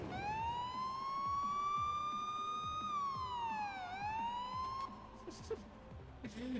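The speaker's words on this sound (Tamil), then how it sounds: "Police siren வச்சிருக்கடா." A police car siren in the video game Forza Horizon 4 wails continuously, rising and falling in a long sweeping tone, loud and close over a busy background rumble.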